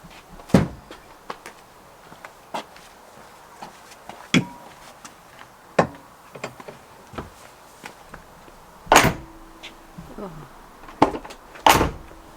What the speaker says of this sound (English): So shut the door, I guess.